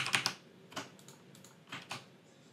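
A few quiet keystrokes tap on a computer keyboard, sparse and irregular, close by in an otherwise still room.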